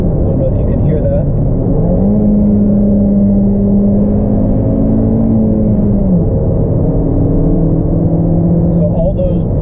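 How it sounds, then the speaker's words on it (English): Engine of a 2020 Toyota Corolla Hatchback XSE with manual transmission, auto rev-matching on downshifts from sixth gear: a steady droning engine note rises and holds, then drops, with road noise throughout. "So all those perfect downshifts you're hearing, sad to say, that's not me. That's the car auto blipping for me."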